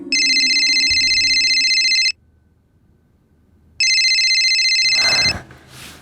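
An electronic phone ringtone trills loudly in two long bursts separated by a short silence, followed by brief rustling handling noise.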